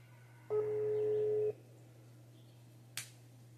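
A phone placing a video call: a single steady electronic ringback tone lasting about a second over a low hum, followed moments later by a brief click.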